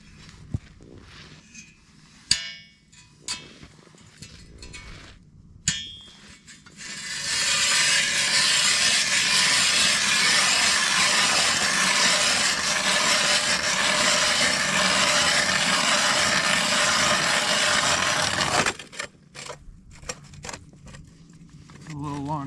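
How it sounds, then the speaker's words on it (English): A long ice auger bores a hole through lake ice, giving a loud, steady grinding roar of about eleven seconds, with scattered thumps and handling sounds before and after. "Here's the auger,"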